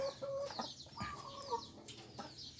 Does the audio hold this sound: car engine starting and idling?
no